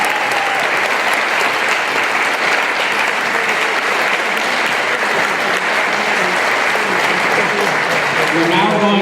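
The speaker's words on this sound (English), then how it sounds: "let's have a round of applause for all the 4 speakers" Audience at a citizens' forum on a proposed casino in Milford gives a round of applause for the speakers, a dense, steady clapping that fills the whole stretch at full volume, with faint voices underneath.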